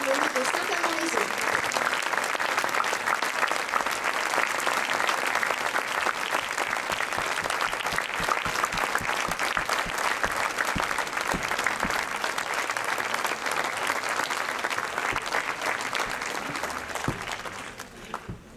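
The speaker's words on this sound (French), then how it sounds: "applaudir bien fort" A theatre audience at a show applauds loudly and steadily for a musician from the Saint-Amand-les-Eaux wind band, dense clapping sustained for about eighteen seconds before trailing off at the end.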